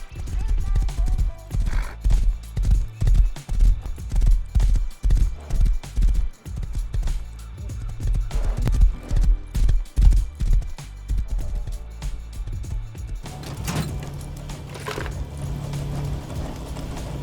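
Video game horse hoofbeats pound in rhythmic, repeated gallop cycles, loud and close, with a brief pause and a shift in texture near the end, from the game Rust.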